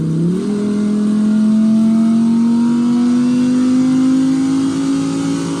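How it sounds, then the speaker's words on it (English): A Lamborghini Huracán EVO engine idles with its exhaust valves open, a deep, loud, steady drone, its pitch creeping slowly upward as it holds a constant rumble, with no talking. "I'm gonna open up the valve so you can hear the engine."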